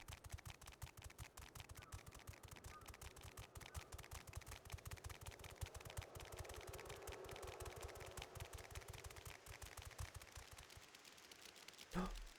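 A toad character in Final Fantasy XIV walks on stone, producing a rapid, steady run of light tapping footsteps that continues for several seconds at a fairly faint level, ending with one heavier thump.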